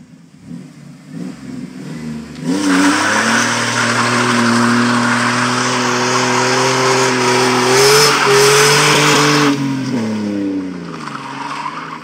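A car engine revs hard under steady throttle, with a loud rising and wavering whine joined by tire squeal for several seconds before easing off, faint voices around it.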